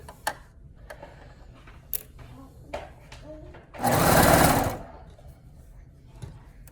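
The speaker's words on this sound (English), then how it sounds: "I'm just gonna sew a little bit. I'm just gonna adjust my fabric and sew some more." A sewing machine stitching the neckband fabric for a Blissey sew-along, one loud close burst of about a second between soft handling noises and clicks.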